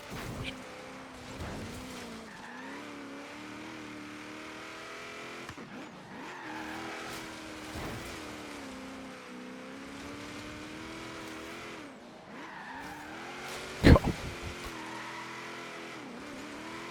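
Race car engine in Forza Horizon 3 revving and droning steadily through corners taken with the handbrake, loud and continuous with brief tire-squeal bursts and a sharp impact near the end.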